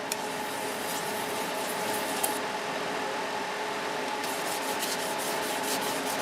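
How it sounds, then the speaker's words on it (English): Minwax water-based sanding sealer being applied to a turned wood bowl: a steady, loud rubbing hiss runs throughout over a low, constant motor hum. "watch the first coat of finish go on this piece. And I'm using Minwax water-based sanding sealer"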